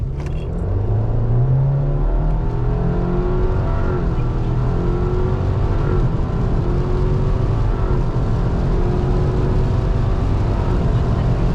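A turbocharged Subaru Forester SK5 accelerates hard on a rainy road during a timed run, its engine droning steadily and rising in pitch over a continuous heavy rumble, loud and close from inside the car.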